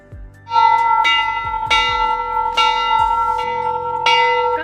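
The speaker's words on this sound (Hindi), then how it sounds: "बड़ा सा यहाँ पे घंटी लगी हुई थी, इसको घंटी क्या बोले, घंटा है ये" A large ashram bell rings in five strong, evenly spaced strikes. Each strike opens with a sharp metallic clang and leaves a bright sustained hum that overlaps the next one, loud and close, with no voices.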